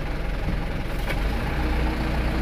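A vehicle engine rumbling steadily on a muddy village track in Lampung, a dense low drone that stays fairly loud and even, with no clear rise in revs.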